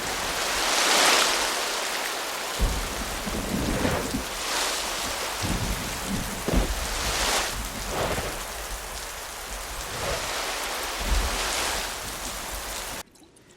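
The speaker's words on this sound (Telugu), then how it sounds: "గాలి వర్షం జోరుగా ఉంది." Heavy rain with wind in a coastal fishing village by the sea, a steady loud hiss of downpour with gusting surges throughout, heard alone with no voices.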